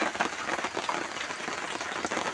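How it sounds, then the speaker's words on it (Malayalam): Light rain patters steadily, a soft continuous crackle of drops with no voices. "ചെറുതായിട്ട് മഴയുണ്ട് പുറത്ത്"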